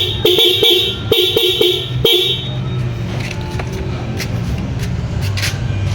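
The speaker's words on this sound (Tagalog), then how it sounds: "Okay, boss, busina." A Honda Wave 110 motorcycle horn sounds in a series of short, close, loud toots for about two seconds, then stops, leaving idle background hum and light handling noises.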